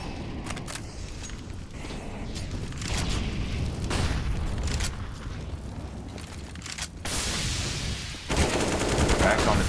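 Gunfire rattles through a competitive Counter-Strike match on the Ancient map, with repeated sharp shots, bursts and mechanical clatter layered over a dense, loud game soundscape, and a faint commentator voice underneath.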